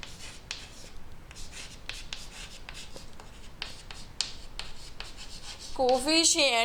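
Chalk or marker scrapes across a classroom board in a string of short, dry strokes as a math coefficient is written, followed near the end by a brief burst of voice.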